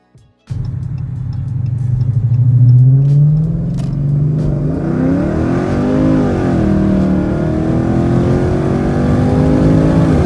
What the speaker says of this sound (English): the car revved out, made good power